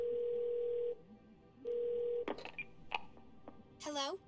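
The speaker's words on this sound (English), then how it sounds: "Call Bumblebee" Phone dialing a call in the video game 12 Minutes: a steady dial tone cuts off and returns, then a quick run of short keypad beeps, ending in a brief electronic chirp.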